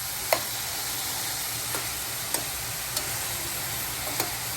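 Cauliflower rice being stirred in a frying pan, steady faint sizzle with a few sharp scrapes and taps of the spoon spaced about a second apart.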